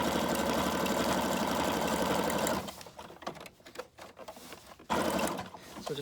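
Sewing machine stitching steadily down the side of a paper envelope for a junk journal, a loud continuous whir for about two and a half seconds, then stopping to quieter handling sounds before a brief burst of stitching resumes.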